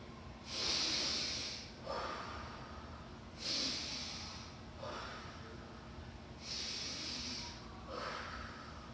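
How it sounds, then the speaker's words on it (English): Someone takes slow, deep breaths as a calming self-regulation exercise: four long airy inhales and exhales in a steady rhythm, close and clear, with no talking. "breathe in, breathe out, breathe in, and now breathe out"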